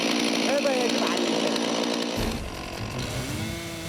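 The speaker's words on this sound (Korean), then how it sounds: "먼저 나무를 쓰러뜨릴 방향으로 작은 톱질을 내고 첫 번째 톱질보다 높은 곳을 깊이 잘라주는데" Chainsaw running steadily while felling a tree on a hillside during a large logging clearance, loud and continuous with a brief shift in tone midway, a voice talking faintly underneath.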